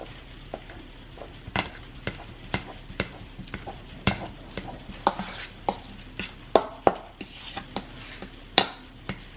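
Very ripe, blackened bananas mashed with a fork in a salad bowl: a steady run of sharp metallic clicks and scrapes against the bowl, close and fairly loud, with brief pauses between strokes.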